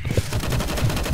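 Rapid automatic gunfire in CS:GO, a loud burst of steady, evenly spaced shots running throughout without pause.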